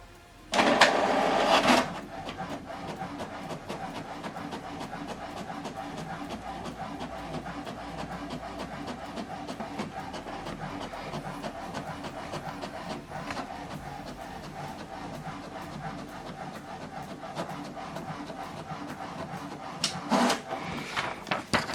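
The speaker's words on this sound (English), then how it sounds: "Let's check it out by printing our sample document" An HP Deskjet 4100 printer runs off a sample page: a steady mechanical whir with rapid repetitive ticking of the print carriage, bracketed by louder feed clunks and shuffling at the start and near the end.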